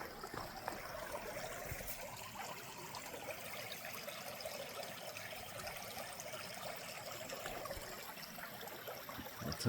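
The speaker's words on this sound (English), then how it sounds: "little creek" A small creek flowing beside a forest trail on a morning walk, a faint, steady, even trickle heard from a short distance with no voices.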